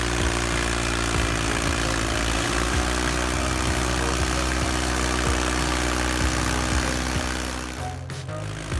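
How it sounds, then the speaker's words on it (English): A Ford 4610 tractor drags a heavy load of corn stalks, its engine drone loud, close and laboring at a steady pitch before easing off at the very end. "the Ford 4610 still manages to pull it, though with some struggle"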